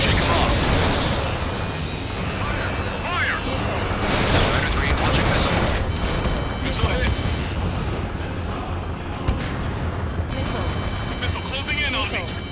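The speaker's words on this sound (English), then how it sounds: "Strider 3, launching missile." Dense, loud game-combat din from Ace Combat 7: missile launches and explosions rumble continuously, with radio voices talking over the roar of jets and blasts.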